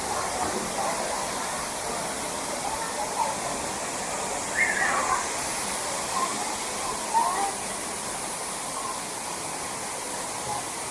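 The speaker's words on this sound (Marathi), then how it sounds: "सिंधुदुर्ग जिल्ह्यातील कोकणातील एक सुप्रसिद्ध धबधबा" A steady, broad rushing roar of the Nhavankond waterfall in Sindhudurg, Konkan, in monsoon, fills the whole stretch, constant and enveloping, with faint brief chirps or clinks above it.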